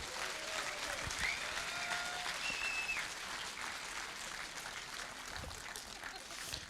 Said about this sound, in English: Big round of applause for Shelley